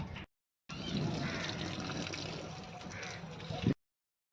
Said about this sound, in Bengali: এবার আমরা ভালো করে চালটা কষলে কষলে ধুয়ে নিচ্ছি